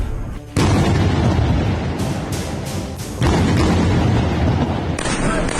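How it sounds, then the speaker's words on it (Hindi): Heavy explosions from bombing in the Gaza Strip boom one after another, loud and close, with long rumbling roars between sudden blasts. "एक के बाद एक धमाका, जमीन पर आग की लपटें"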